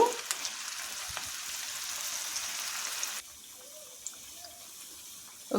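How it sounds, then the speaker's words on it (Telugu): Cauliflower pieces deep-fry in hot oil for crispy gobi 65, a steady bubbling hiss that runs for a few seconds and then drops to a quieter, softer fizz. "అప్పుడు గోబీని డీప్ ఫ్రై చేసుకోవాలి"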